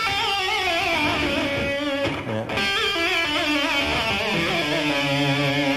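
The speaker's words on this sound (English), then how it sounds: "It's just where you just play a note and then pull up real Sharp" Electric guitar with a sharp, abrupt whammy-bar pull-up on a single note, then a release, in a Mixolydian phrase; sustained distorted tone with bending pitch glides throughout, loud and close, with a brief dip in the middle.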